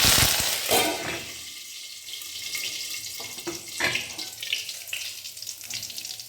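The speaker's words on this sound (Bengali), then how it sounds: "কারণ সর্ষে আর কারি পাতা খুব ফোটে" Black mustard seeds and curry leaves spluttering in hot oil in a pan while making chirer polao (poha): a burst of crackling and sizzling at the start that settles into a softer, steady hiss with scattered pops.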